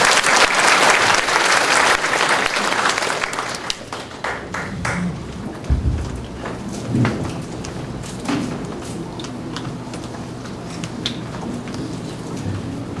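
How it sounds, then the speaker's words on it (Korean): An audience at a lecture event applauds to welcome an education superintendent with a loud, dense wash of clapping at first that thins into scattered, fading claps and a few thumps. "교육감님을 다시 한번 큰 박수로 맞이해 주십시오"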